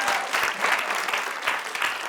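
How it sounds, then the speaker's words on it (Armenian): A studio audience at an Armenian evening entertainment show applauds, a dense, steady burst of many clapping hands filling the whole stretch, close and fairly loud. "Բարձր ծափարում եք Նանե"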